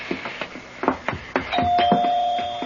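A doorbell rings at a house's front door, a bright ding-dong chime sustaining its tones after a series of faint thumps and footsteps before it.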